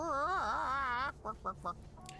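A chicken in the fantasy video game Tainted Grail: Fall of Avalon gives a drawn-out, wavering squawk followed by three short, clipped clucks, close and fairly loud with nothing else around it.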